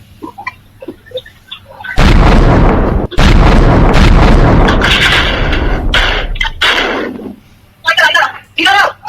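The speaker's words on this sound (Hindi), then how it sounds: "एक के बाद एक ऐसे 3 धमाके किए गए।" Loud, close bomb blasts in a residential lane, hurled against the wall of a house, with roaring bursts, a short gap, then more booms and crackling debris; voices are heard faintly at the start and the end.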